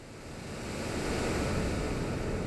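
Water attack in a Pokémon game, a steady rushing, surf-like roar that swells in over the first second and holds loud and broad, with no talk.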